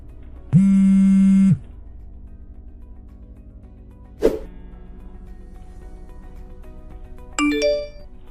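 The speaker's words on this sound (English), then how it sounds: "quickly, pick up the phone" A phone ringing in a quiet room: a loud, steady electronic tone held for about a second, then a sharp click and, later, a short rising chime, with no talk.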